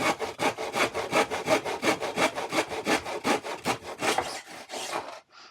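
A hand saw cuts small wooden pieces for a camper van bed frame, about twenty quick, even back-and-forth strokes, close and loud, slowing and stopping at the end.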